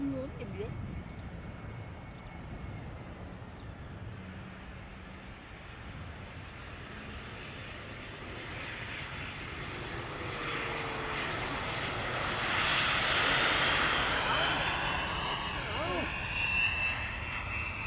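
Air India Airbus A350 jet airliner at Amsterdam Schiphol Airport, a distant engine rumble that gradually builds into a louder roar toward the end as the aircraft passes, with faint background talk.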